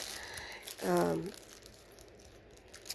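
Plastic zipper bags crinkling at home, one short rustling burst near the middle, close but fairly soft, with quiet room noise around it and no talk.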